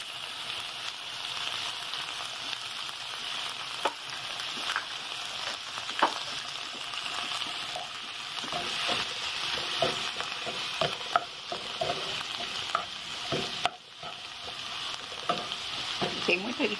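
Onions sizzle and fry in a pan, with steady crackling and occasional stirring scrapes throughout, close and continuous with no talking.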